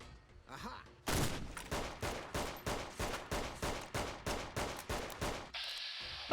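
Gunfire in the video game Fallout: New Vegas: a rapid burst of about a dozen evenly spaced, loud, sharp shots, close and dominant, followed by a brief steady hiss.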